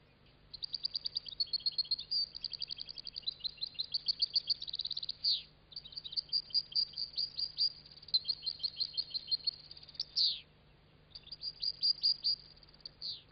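Goldfinches chirping in an aviary while feeding on nettle, a steady stream of rapid twittering song in several phrases with brief pauses, moderately close over a low constant hum.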